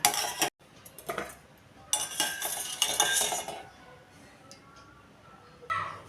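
Boiled lemons being drained from hot water, heard as a clatter of metal utensils and pots with a rushing pour of water, loud and close in bursts.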